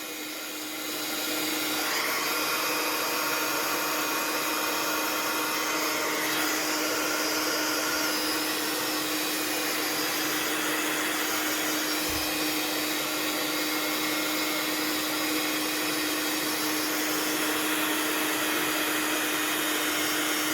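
A hair dryer blowing to dry wet paint for an embossing craft piece switches on after a moment and then roars steadily and loudly close by, with a constant whining tone and no voices.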